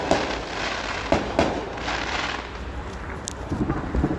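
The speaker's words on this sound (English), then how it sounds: "those are gigantic fireworks" Large fireworks burst at a 4th of July celebration, with several sharp booms and crackling explosions at irregular intervals over a steady rumble of outdoor noise.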